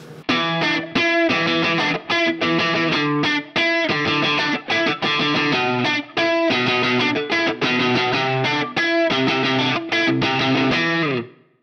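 Clean electric guitar plays a steady, busy rhythmic riff with a bright, full tone, set on a Line 6 Helix, continuous and loud with short gaps between strummed phrases.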